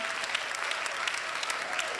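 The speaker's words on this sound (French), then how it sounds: "Est-ce qu'on peut leur donner une main d'applaudissement à Andréana et Valérie?" A church congregation applauds new members of the diaconate team, a steady, dense wash of clapping from many hands that holds evenly for two seconds with no break.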